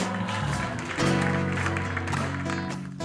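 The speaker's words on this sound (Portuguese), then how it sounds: "vamos bem forte aplaudir a Deus" Church congregation applauding during worship, broad clapping mixed with sustained music and singing voices, loud and continuous for the whole stretch.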